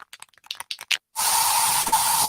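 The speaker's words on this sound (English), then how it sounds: "So you just used bug spray in your home." A can of bug spray hisses out in one long continuous aerosol burst indoors at home, loud and steady for over a second after a string of short faint clicks and rustles.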